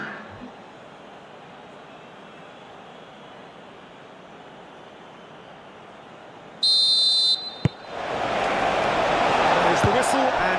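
Referee's whistle in eFootball PES 21 during a simulated World Cup match, one steady blast lasting about a second, followed by a swelling stadium crowd roar, with commentary spoken beforehand.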